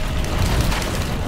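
Heavy explosion in the video game Risk of Rain 2, a loud dense low rumbling burst that fills the short moment without a clear single onset.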